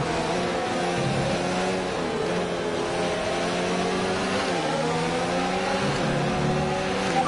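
Formula One race car engine in the F1 2019 video game, a steady loud high-revving whine held throughout with slight pitch shifts as the car accelerates, no talking over it.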